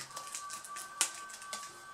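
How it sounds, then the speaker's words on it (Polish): Sticky keys on an ASUS X550V laptop keyboard are pressed one by one, a string of close, dry clicks at an uneven pace, with a sharper tap standing out midway and a faint steady electrical hum underneath. "Klawisze faktycznie się kleją."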